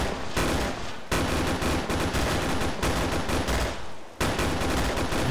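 Gunfire aimed at vehicle wheels in the military video game ARMA 3, loud sustained bursts of rapid automatic fire with brief pauses between volleys, close and without talk.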